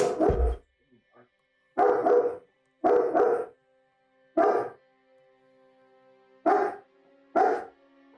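A pet dog barks six times in short, loud bursts spaced unevenly over several seconds, close by, with quiet gaps between barks.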